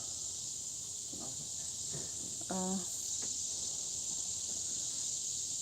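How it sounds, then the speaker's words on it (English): Cicadas drone steadily through a morning outdoors, a loud continuous high buzz that fills the whole stretch, while a person's brief voice sounds quietly beneath it. "I thought cicadas only come, I think I asked that question before, only come out in the evening."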